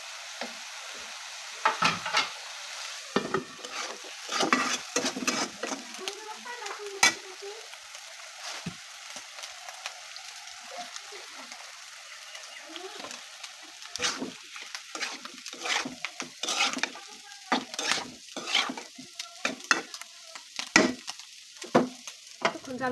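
Potatoes sautéing in hot oil in a pan, a steady soft sizzle broken by frequent scraping stirs and light knocks, close and moderately quiet, with a few brief voice sounds.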